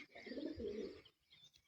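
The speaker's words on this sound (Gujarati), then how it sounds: "અહીંયા ઓલા કબૂતરા રાખ્યા છે સફેદ" White pigeons cooing close by in low, rolling calls across the first second, followed by fainter chirps from other birds.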